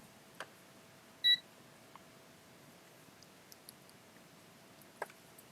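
A multimeter set to diode test mode on a Hitachi TV board gives a single short, clear beep, with a few faint clicks and ticks scattered through an otherwise quiet room.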